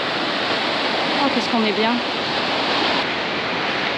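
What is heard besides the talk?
sea waves breaking on the shore in Pondicherry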